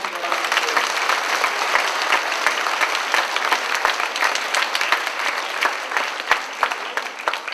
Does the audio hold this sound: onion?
no